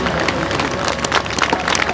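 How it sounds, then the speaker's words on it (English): A crowd gathered to welcome a new lifeboat at Llandudno on the Welsh coast applauds its crew, a dense, steady patter of many hands clapping nearby, with a few faint voices mixed in. "Nice round of applause for the"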